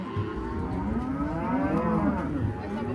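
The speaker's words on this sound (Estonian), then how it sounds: "Siin on mu lehmad." Cows on a farm moo in long, wavering, drawn-out calls that overlap continuously, loud and close, with no talking.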